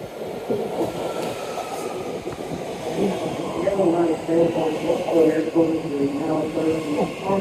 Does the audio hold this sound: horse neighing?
no